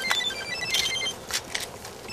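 A telephone rings in an office with a client calling, its bright electronic trill repeating in short bursts at a moderate level over quiet room tone.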